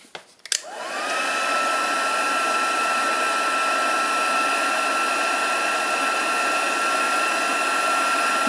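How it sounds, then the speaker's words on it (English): A heat embossing tool switches on with a click and blows steadily, a loud, close, continuous whooshing hum that holds without a break. "grab my heat tool again."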